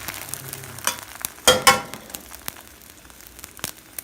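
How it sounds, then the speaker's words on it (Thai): Soft sizzling and crackling of eggs frying in a pan, with a couple of louder scraping clatters partway through and faint pops scattered throughout. "ทอดไข่"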